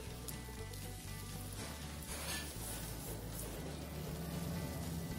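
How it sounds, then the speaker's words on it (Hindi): Onions fry slowly over medium heat in a pan for a bottle gourd kofta gravy, giving a soft, steady sizzle and crackle that stays faint and even throughout, with no talking. "प्याज को मीडियम आंच में आराम आराम से भूनते जाएंगे।"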